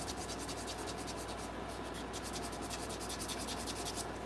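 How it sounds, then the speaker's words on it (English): Steady, rhythmic rasping of sandpaper rubbed back and forth over wood, close up and continuous with no talking. "hand sanding this little dude."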